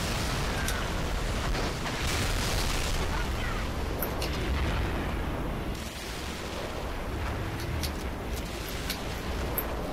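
Heavy booming blasts and explosions from a Wraith tank in the Halo 3 video game, a dense continuous barrage of rumbling impacts with sharp bursts, loud and close throughout the stretch.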